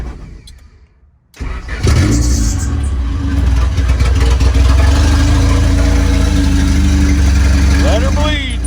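A Honda Civic EF engine turns over after a short crank, catching and settling into a loud, steady idle heard up close.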